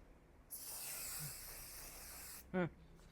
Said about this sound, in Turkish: O da Pro Makeup Fixing Spray isimli bu makyaj sabitleyici spreyi.